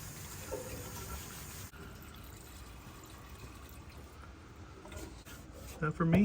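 Water poured from a jug through a funnel into a 1966 Nissan Patrol barn find, a faint steady trickle under quiet background noise, with a brief louder splash near the end.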